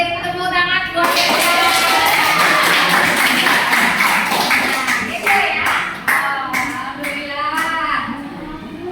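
Classroom applause from a group of junior high students, a dense burst of clapping that starts sharply near the beginning and carries on throughout, with children's voices and some talking mixed in.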